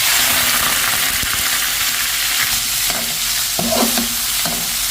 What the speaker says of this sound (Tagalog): Iprito muna natin yung ating karne.